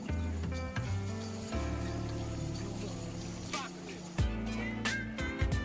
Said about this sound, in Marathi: तळल्या जात आहेत व्यवस्थित छानपैकी.